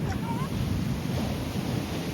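Sea waves surge onto Madhavpur beach in a loud, continuous roar mixed with wind buffeting the microphone, a steady rushing wash with no clear breaks.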